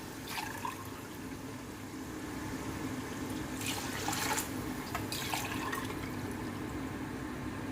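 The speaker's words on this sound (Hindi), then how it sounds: "ये देखें, इस हिसाब से पानी डालूंगी" Water pours steadily into a pot for chicken pulao, a continuous close rushing flow with a few brighter splashing bursts partway through.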